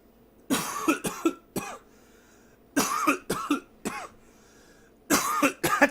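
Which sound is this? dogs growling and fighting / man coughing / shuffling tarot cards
man coughing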